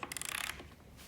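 A 17mm deep socket ratchet on a coolant temperature sensor of a 2007-2013 Acura MDX/ZDX gives a quick run of rapid clicking, followed by a faint scrape and quiet.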